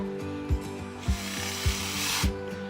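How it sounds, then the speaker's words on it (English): A power drill whines steadily while a regular knocking repeats about every half second, close by, as it drills holes through a mason jar lid. "it's time to drill the holes through so that you could fit this soap dispenser through"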